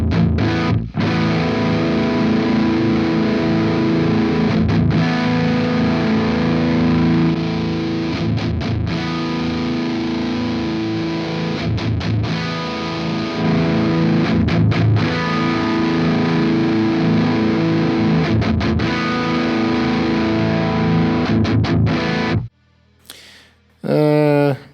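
A high-gain electric guitar played through a Friedman BE100 amp simulator chugs loud, distorted palm-muted riffs with rhythmic stops for about twenty-two seconds, then cuts off, leaving brief quieter sounds at the end.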